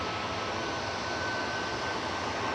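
A 10-year-old Airbus A320 jet airliner at Manchester Airport gives a steady, broad engine roar that stays constant throughout, heard from a distance with no talking.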